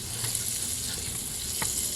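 Butter sizzles in the bottom of a Dash mini griddle, a steady dense frying hiss that holds evenly throughout, close and moderately loud, with a couple of faint brief clicks and no voices.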